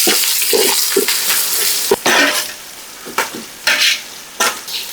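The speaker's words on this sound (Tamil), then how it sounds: "வெங்காயத்தோட சேர்த்து கராம்பு, சின்ன சீரகம், பே லீவ்ஸ், கருவேப்பட்டை, சாதிக்கப்பூ நல்லா மிக்ஸ் பண்ணிடுவோம்" Onions with cloves, cumin, bay leaves, cinnamon and nutmeg fry and are stirred in a pan. Loud hissing sizzle comes in bursts, with spatula strokes close by at irregular intervals. No one speaks.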